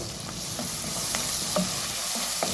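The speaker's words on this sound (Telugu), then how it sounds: "అల్లం వెల్లిగడ్డ పేస్ట్ పచ్చివాసన పోయేంత వరకు ఫ్రై చేసుకున్న తర్వాత" Ginger garlic paste fries in hot oil in a pan for mutton keema, a steady sizzle broken by soft scraping stirs of a spoon at intervals, close and alone.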